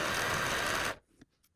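A sewing machine back stitching on quilt-block scraps, a dense steady whirring run of just under a second that stops abruptly, followed by a few faint clicks.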